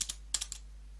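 Several quick keystrokes tap on a computer keyboard, close and faint, in a short irregular burst over a low steady hum.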